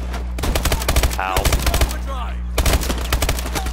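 Rapid automatic gunfire in Call of Duty: Advanced Warfare, loud bursts of evenly spaced shots with a short pause in the middle, while someone talks over the shooting.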